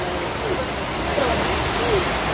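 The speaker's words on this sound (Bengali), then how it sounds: "আর এই বৃষ্টিটা মানে কতক্ষণ যে নামছে ধারণার বাইরে," Heavy rain pours steadily as a dense, even hiss on surfaces, with faint voices murmuring beneath it.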